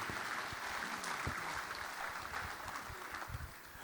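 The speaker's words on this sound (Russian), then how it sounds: "я прошу поддержать аплодисментами" Distant crowd applause, a steady wash of clapping that stays fairly faint and even throughout.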